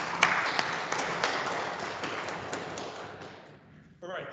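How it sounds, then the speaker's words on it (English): Audience applause for a speaker at a GeoSpark for Apache Spark tech talk, a steady close wash of many hands clapping that fades out near the end before a voice begins. "a big round of applause for him going out"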